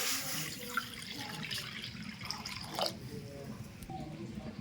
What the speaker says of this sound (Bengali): কড়াই গরম হয়ে গেছে কড়াইয়ের মধ্যে দিয়ে দেবো জল